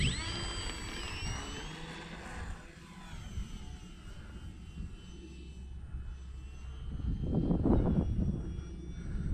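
The electric motor of an FMS T-28 Trojan 800mm RC plane drones steadily in flight, with whining pitch sweeps as it passes, distant and continuous over outdoor background noise.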